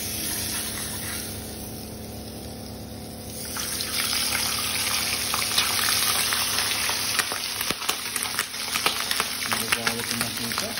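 Chicken skin frying in hot oil, a loud steady sizzle that swells after a few seconds into continuous crackling with sharp pops, close by and constant.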